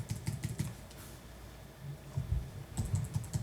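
Computer keyboard arrow keys are tapped close by in quick clusters of sharp clicks, a pause in the middle, then another rapid run of presses.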